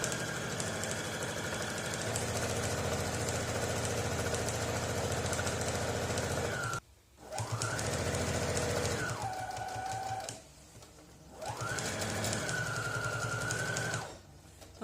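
Sewing machine running in long continuous bursts as it stitches along a fabric seam, a steady mechanical whir with brief pauses between runs, close and clear with no voices.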